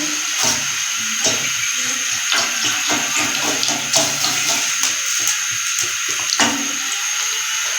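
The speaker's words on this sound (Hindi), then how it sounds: "तो अब हम इसमें दूध ऐड करेंगे, हस्बे ज़रूरत जितना आप इसमें ऐड करना चाहते हैं" Milk poured into boiling tea sweetened with jaggery, cooked village style: a steady, close watery rush with bubbling, continuing evenly throughout with a few sharper splashes.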